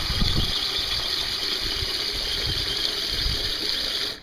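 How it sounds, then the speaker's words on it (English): Garden hose running water into a metal canister, a steady close gushing rush with a bright hollow ring, continuous and loud until it cuts off at the end. "With my hose here, I'm going to fill my canister about halfway."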